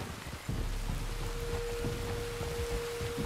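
Steady rain falls in Red Dead Redemption 2, a dense, even hiss of drops on surfaces with a faint low rumble beneath, continuous and moderately quiet with no talk.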